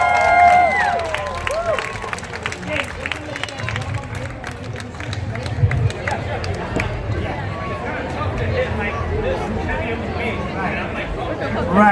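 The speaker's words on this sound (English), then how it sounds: "All right, let's give him a big round of applause." A crowd at Hmong Day at the 2017 Minnesota State Fair applauds a weightlifter, a spread-out wash of clapping mixed with cheering and busy chatter, continuous throughout.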